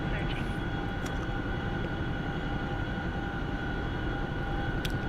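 A Chinook helicopter engine in a video game drones on steadily in flight, a continuous loud low roar with a faint high whine that never lets up.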